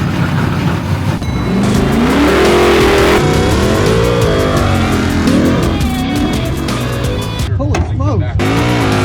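A 1969 Ford Mustang drag car with a roughly 1,000-horsepower engine launches hard, its loud, close engine revving and wailing up and down through repeated sweeping pitch climbs.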